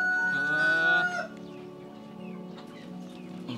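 A blue eager gamefowl rooster crows loudly and close at the start, then drops into softer, scattered clucks, with other birds faintly audible around it.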